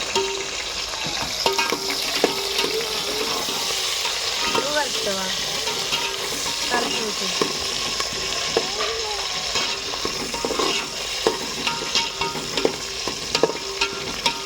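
Onions and green chillies frying in oil for a Telugu fish curry, stirred steadily throughout: a continuous close sizzle with frequent scraping and stirring clicks, no talk.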